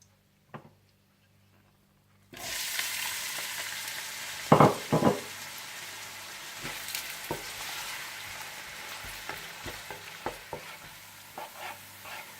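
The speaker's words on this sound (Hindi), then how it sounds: "इसमें आप डाल दें कड़ी पत्ता और प्याज डालकर गोल्डन फ्राई कर लें" Onions and curry leaves fry in hot desi ghee with a steady, close sizzle that starts abruptly after a short silence, broken by scattered clicks and scrapes of a utensil stirring the pan.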